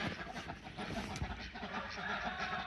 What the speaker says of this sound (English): Look at the ducks and the geese.